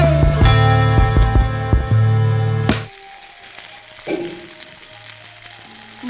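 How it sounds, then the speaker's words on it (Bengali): Bitter gourd and potatoes fry in a pan in a home kitchen with a loud, close sizzle. Sharp clinks and a steady hum sit over it at first, then the frying carries on more quietly with a few light knocks. "উচ্ছে আলুটা ভেজে নিলাম"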